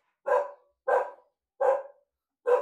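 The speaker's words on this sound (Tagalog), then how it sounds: "Maingay aso ko." A dog barks four times in a slow, evenly spaced series, loud and close, with short silences between each bark.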